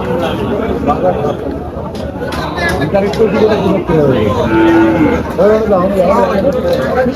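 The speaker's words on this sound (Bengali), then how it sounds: "গরু কিন্তু অনেক সুন্দর সুন্দর গরু আছে" Cattle at the Afzal Mondol cattle market in Faridpur give a brief, low moo partway through. It sits beneath loud crowd chatter and nearby people talking.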